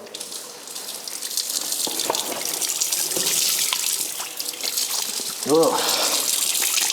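Carbonated water pours from a push-button tap in a steady hiss and gush, rising slightly toward the end, while a person talks briefly over it.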